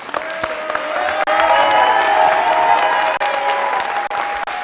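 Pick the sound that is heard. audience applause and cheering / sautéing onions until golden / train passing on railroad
audience applause and cheering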